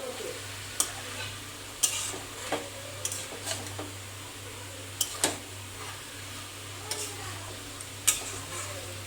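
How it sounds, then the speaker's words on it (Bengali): Chicken pieces are sautéed in a pan for chicken curry, a soft continuous sizzle broken by sharp, irregular ladle taps and scrapes against the pan, with a low steady hum beneath. "মাংসটা কষানো হোক"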